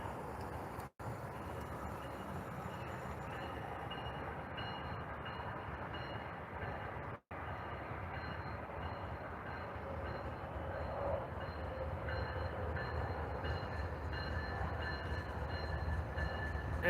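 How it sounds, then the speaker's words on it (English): A Norfolk Southern freight train rumbles past steadily, a low continuous roll of rail cars growing slightly louder toward the end, with no talking. "we're about to get blocked by a train"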